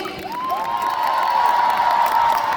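A concert audience cheers at a live-show encore, with a loud, steady crowd roar and a sustained rising whistle running through it.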